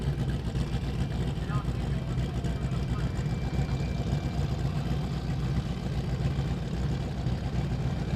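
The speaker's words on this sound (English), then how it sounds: "Matt Green is having trouble hearing his car over Richard Flint's fuel pump" Drag race car at staging at a street racing event, its engine idling and burbling loudly alongside a fuel pump's steady whine in a dense, continuous roar.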